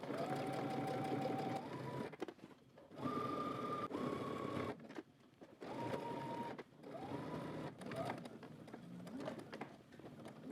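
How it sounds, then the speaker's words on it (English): A sewing machine edge stitches along a fold in fabric for a Simplicity S9822 garment, running in several long, steady whirring stretches with brief stops between them, fairly quiet and close. "now you want to head to the machine, and we're just going to edge stitch"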